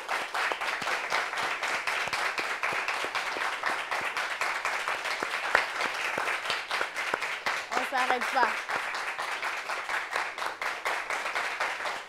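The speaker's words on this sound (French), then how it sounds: "On applaudit pour lui, s'il vous plaît." A studio audience keeps up dense, continuous applause for a guest on a French-language TV show, with a person speaking over the clapping throughout.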